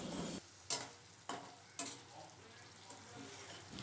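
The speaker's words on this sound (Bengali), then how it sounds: "খুব ভালো করে এবারে তেলে এটাকে কষিয়ে নিতে হবে" Ginger and spices are sautéed in oil for a chickpea ghugni, giving a soft steady sizzle broken by three sharp spatula scrapes and stirs against the pan, close and quiet.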